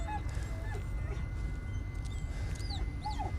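A dog in the Blair Witch video game gives several soft, high whimpers and whines, weak and intermittent over a low background rumble.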